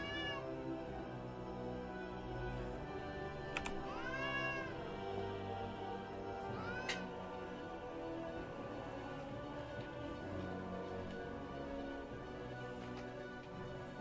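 A cat meows several times in short, rising calls spread through the first half, over a steady low hum of background noise.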